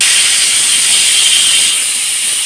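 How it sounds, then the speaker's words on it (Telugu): A loud, close pressure cooker whistle hisses steadily throughout as mutton biryani cooks inside, a single unbroken jet of steam with no speech. "3 విజిల్స్ వచ్చాయి కదండి,"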